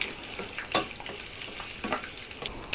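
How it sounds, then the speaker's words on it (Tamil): Cashews and curry leaves frying in a pan for ven pongal make soft crackles and pops, with a few stirring scrapes and a louder clink near the end. "நல்லா கொஞ்சம் பொன்னிறமாக வறுத்துடலாம்"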